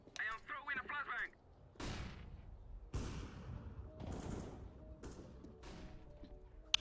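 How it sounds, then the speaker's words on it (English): Flashbang grenades and other gunfire-like blasts going off in CS:GO, a string of sharp loud bangs roughly a second apart, after a brief burst of other sound at the start. "I am throwing a flashbang"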